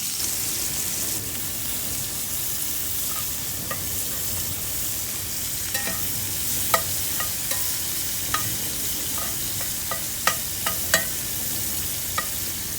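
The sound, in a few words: shrimp cooking in cast iron pan on grill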